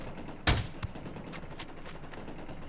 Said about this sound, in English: Let me shoot that over here.